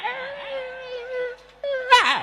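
A voice imitates a female dog whimpering, with a sustained, wavering whine held for about two seconds before it rises into a sharper, louder cry at the end.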